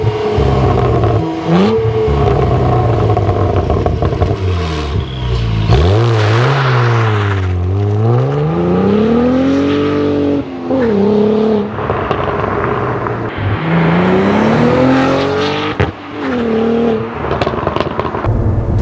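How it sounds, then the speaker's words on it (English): A 2025 Cadillac CT4-V Blackwing's twin-turbo V6 revs repeatedly with a deep, throaty exhaust growl, rising and falling in pitch across several loud bursts of acceleration. "I think the exhaust on the Blackwing for a forced induction V6 setup sounds pretty good."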